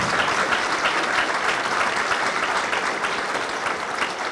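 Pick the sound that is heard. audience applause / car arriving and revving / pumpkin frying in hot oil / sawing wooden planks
audience applause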